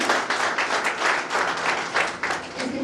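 Brief burst of applause from an audience at a CISF honour ceremony at a meditation training centre in Bilaspur, thanking the deputy commandant; dense, lively clapping from many hands throughout.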